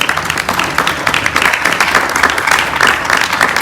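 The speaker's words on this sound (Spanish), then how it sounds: "Dele fuerte las palmas a él." A church congregation at a Spanish-language worship service claps hard and steadily, dense close applause filling the room for a few seconds with no voices over it.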